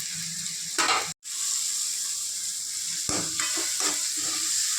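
Curry leaves and coriander sizzle steadily in a masala gravy for potato fry, with a brief stir break near the start and occasional spoon scrapes against the pan, close and continuous.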